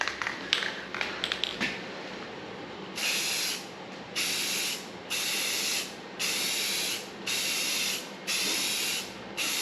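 An aerosol can sprays primer onto an engine timing cover and valve covers: a can rattles first, then five or six even bursts of hissing spray follow in a steady rhythm, close by, with short pauses between them.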